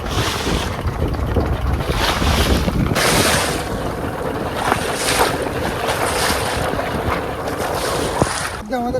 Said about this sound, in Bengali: নদীর প্রচণ্ড স্রোত আর ঝোড়ো হাওয়া, সাথে প্রচণ্ড ঢেউ